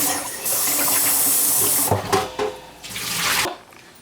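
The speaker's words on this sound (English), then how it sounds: "wash the dahl" Mixed dahl lentils washed under a running tap, a steady rush of water that sloshes and shifts as the lentils are swirled, then briefly cuts off before flowing again, close and loud with no talk.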